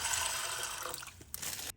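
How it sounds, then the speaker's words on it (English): About 3 cups of water pour steadily onto beans in a continuous splashing stream, then cut off abruptly near the end. "we're going to add about 3 cups of water to soak it."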